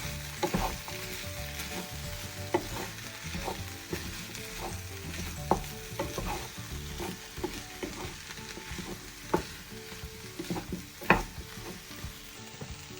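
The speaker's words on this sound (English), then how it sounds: "I'll show you how to mix it properly" Mixed vegetables sizzle and fry in a hot pan as a spoon stirs them, giving steady crackling with irregular scraping clatters up close and no talking.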